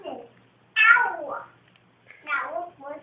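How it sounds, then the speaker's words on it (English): Kittens meow in high, wavering cries, several overlapping calls in bursts separated by short pauses, close and fairly loud with no talk over them. "You little kittens."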